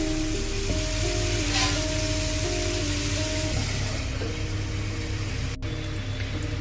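Small fish and tomatoes frying in a covered pan, a steady hiss and sizzle running loud and unbroken throughout, with background music tones over it.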